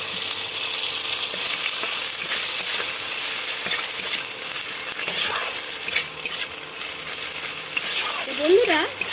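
Chopped tomato hits hot oil with ginger paste and spices, giving a loud, continuous sizzle stirred with occasional scrapes, and a voice briefly speaks near the end.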